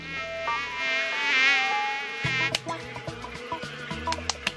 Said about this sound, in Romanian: Țânțarilor sigur le este foame.